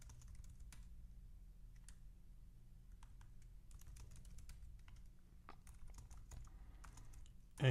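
Typing a code comment on a computer keyboard, a quiet, steady patter of light key clicks with irregular rhythm, faint and close, with no talking.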